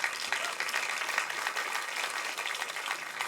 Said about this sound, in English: Warm applause for Hugo.